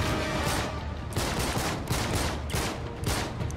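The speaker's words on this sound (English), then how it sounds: "I'm trying to shoot this guy." Dense video game gunfire from Uncharted 3 in a shootout, with loud continuous bursts of rapid shots and several sharp volleys close together throughout.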